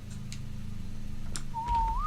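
Near the end, a short rising whistle commands tamed dinosaurs in the video game ARK, rising over a low background hum and a few faint clicks.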